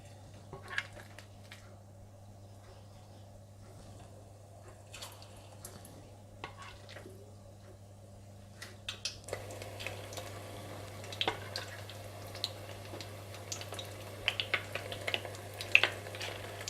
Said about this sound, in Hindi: अच्छी तरह मिलाने के बाद आप इन्हें फ्राई कर लें।